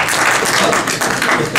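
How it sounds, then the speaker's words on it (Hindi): An audience claps loudly and continuously at an Urdu poetry recital, a dense, even roar of hands at close range with no pause. "तो कुछ तालियां बजाइए"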